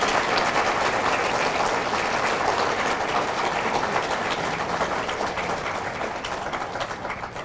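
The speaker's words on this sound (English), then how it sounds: "Please applaud these students for their academic achievements." An audience at a high school underclassmen awards ceremony claps steadily for students' academic achievements, a dense sustained roar of applause in a large hall that tapers slightly toward the end.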